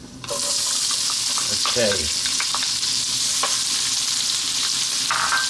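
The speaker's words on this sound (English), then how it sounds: "then what we're going to do is we're going to add in our onion" Onion dropped into hot spiced oil for chicken spinach curry, giving a sudden loud, steady sizzle that continues close up with a few scraping stirs, and a brief spoken word partway through.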